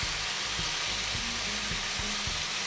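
Seasoned chicken pieces frying in a pan for saffron risotto, a steady loud sizzle with intermittent scraping knocks from stirring.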